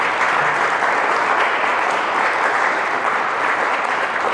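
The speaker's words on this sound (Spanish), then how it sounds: "Ríndale palmas fuertes." A church congregation claps loudly and steadily, a dense, continuous wall of applause held at even strength from start to finish with no pauses.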